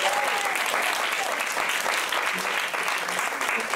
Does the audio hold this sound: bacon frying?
no